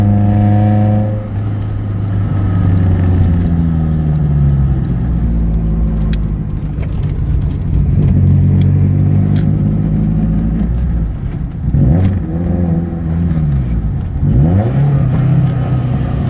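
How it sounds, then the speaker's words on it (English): A Honda CRX with a D16Z6 head on a ZC block, naturally aspirated, revving loud and close as it accelerates through the gears from first to fifth, with rising engine pitch broken by brief drops at each shift. "We're gonna try and rip through all the gears. 1st through 5th."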